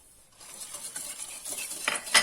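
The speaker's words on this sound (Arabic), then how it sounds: "ضرب يدوي قليلا فقط" Yeast mixture whisked by hand in a bowl for a stuffed pastry dough, giving a soft, rapid scraping and clinking that builds toward the end, with no voices.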